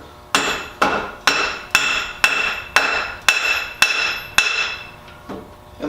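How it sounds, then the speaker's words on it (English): A hammer taps a part into a 4-link bar for a truck build, about nine sharp, evenly spaced metallic strikes, close and clear with nothing else heard. "Tapping this in so that we're at our 1/2 inch mark."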